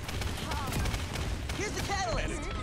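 Gunfire in the video game Paladins crackles in dense bursts amid loud game effects, while a person talks over it.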